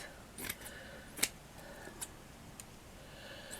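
Scissors snipping a piece of lace, a few faint, sharp clicks scattered over a quiet background, the clearest snips near the start.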